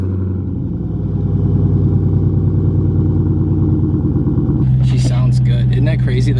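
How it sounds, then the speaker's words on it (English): A stock Dodge Demon engine idles with a deep, throbbing rumble, then rises in pitch as it revs; voices talk over the engine. "Crazy that a stock car can sound like that."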